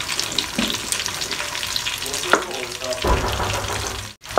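Yogurt-based moru curry with cucumber is stirred gently in a pan over low heat, giving a soft ongoing sizzle with scraping spoon strokes and a few clinks, then a brief sharp drop out near the end.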